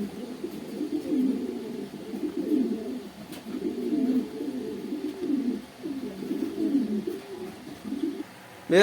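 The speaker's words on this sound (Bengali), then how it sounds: "সেখানে দেখতে পাচ্ছেন এক পেয়ার রেসার কোতার আছে" Pair of racer pigeons cooing in a loft, soft low rolling coos repeating in steady bursts close by, with a brief bump at the very end.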